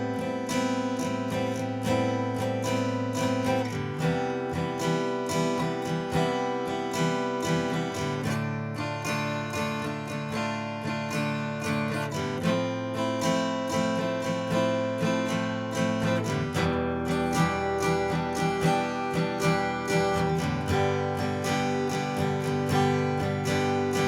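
An acoustic guitar strumming a chord progression in a down, down, up, down, up pattern, steady and close with ringing chords changing every few seconds, no voice.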